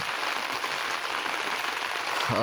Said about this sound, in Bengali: বৃষ্টি হচ্ছে অনেক ধাপা চাপা দেখতে পাচ্ছেন